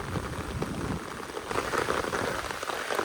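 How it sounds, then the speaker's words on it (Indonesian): Heavy rain pours steadily on a surface beside a road with landslide sites, a dense, close, continuous hiss with scattered drop impacts and no voices. "Hujan lebat."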